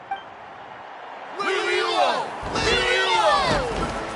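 A crowd in Genshin Impact swells into loud, sustained cheering with sweeping whistles, starting after a quieter moment and continuing to the end.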